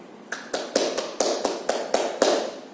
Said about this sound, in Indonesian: mari kita beri aplaus untuk ke diri kita masing-masing